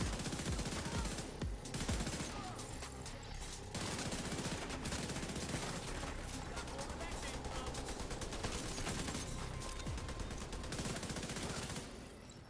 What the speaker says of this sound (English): RPMs on this assault rifle feels pretty good though